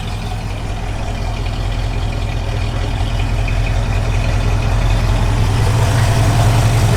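A 1964 Ford Falcon Sprint convertible idles steadily at close range, a smooth low rumbling drone that stays even and builds slightly in loudness, with no voices.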